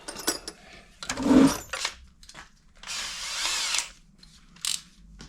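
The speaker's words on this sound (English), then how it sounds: "if we just start off now and drill a little hole" A power drill whirs in short bursts, drilling a small hole in an Akrapovic exhaust baffle on a Yamaha Tenere, starting and stopping a few times, close by with brief quiet gaps between runs.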